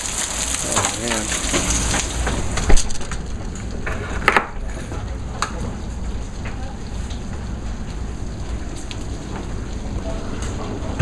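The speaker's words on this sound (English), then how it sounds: "look at all that hail" A hail storm pelts surfaces outdoors with a dense, steady clatter of falling hailstones, continuous and fairly loud throughout, with a few sharper impacts standing out.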